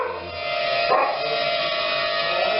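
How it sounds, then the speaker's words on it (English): A dog whines and yips in reaction to a small Hubsan X4 quadcopter drone flying nearby, its voice over a steady high electric buzz from the drone's rotors. "I don't think the dog likes it."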